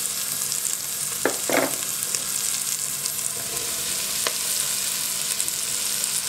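Morel mushrooms frying in a pan alongside sliced carrot for a scallop blanquette, a steady close sizzle with a few brief clinks of a utensil, no speech.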